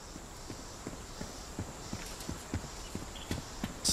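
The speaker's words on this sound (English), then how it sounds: "let's have a listen to aim walking speed to see if this silences your footsteps by default" Footsteps of a video game character moving at aim walking speed, a steady series of soft, evenly spaced thuds over a constant background hiss, fairly quiet and with no voices.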